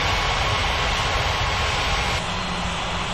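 Airplane engines roar during takeoff on runway 27 at a Bali airport in the video game Unmatched Air Traffic Controller, a loud, steady broadband rumble with no talking.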